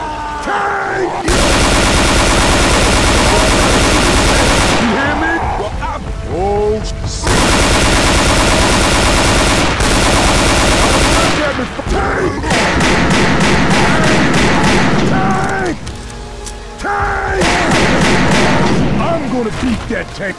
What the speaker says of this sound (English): we all got to shoot the tank